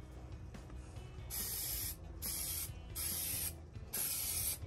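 A spray gun lays a paint coat on a bus wiper part in four steady hissing bursts of about a second each, close and crisp, separated by short pauses, with no talk.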